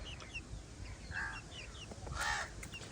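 Village chickens being fed by hand give a couple of short, clear clucks over a steady outdoor background, fairly close and moderately loud.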